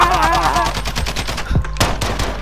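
Rapid automatic gunfire in Modern Warfare rattles close and loud as a steady stream of shots, with a brief pause before the firing resumes.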